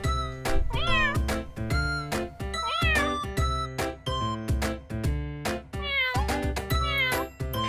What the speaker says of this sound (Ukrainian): Няв-няв.